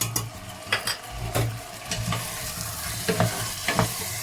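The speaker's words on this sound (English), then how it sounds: "Then we're going to give it a quick stir" Pilau in a pot with tomatoes, salt and pilau masala gets a quick stir, giving repeated soft scrapes and gentle sizzling at a close, moderate level, with no one talking.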